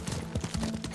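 Horse hooves clop at a steady riding rhythm in the Ghost of Tsushima video game, close and moderately loud, with a faint continuous background hum.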